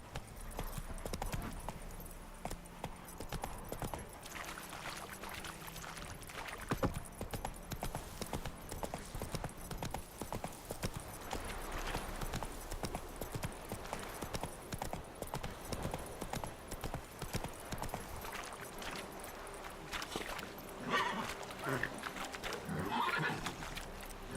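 Horse hooves clip-clopping in The Witcher 3 on PS5, a steady rhythmic trot at moderate distance, with occasional whinnies and some faint game ambience.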